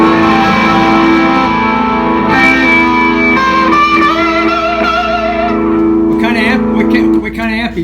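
Electric guitar played through a 1968 Princeton Reverb reissue amp in denim Tolex, on an Epiphone double-neck SG, with sustained distorted chords and effects-laden notes, heavy reverb and echo, loud and steady throughout, the tone thinning out near the end.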